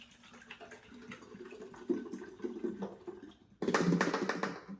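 Water poured into a measuring container with a pour spout, starting with light trickles and clinks, then swelling into a louder, fuller splashing stream near the end.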